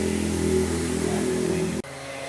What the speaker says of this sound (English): sorry if you hear cars in the background or you might hear a few motorcycles